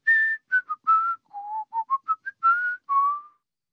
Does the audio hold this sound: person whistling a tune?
yes